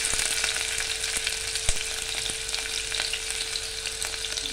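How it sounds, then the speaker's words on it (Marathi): Curry leaves and onion sizzle in hot tempering oil for a Malvani-style red chickpea curry: a steady, close crackling fry with scattered pops and no talk. "आणि कढीपत्ता टाकायचा फोडणीला."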